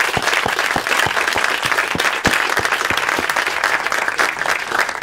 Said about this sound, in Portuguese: Palmas para esse trio sensacional.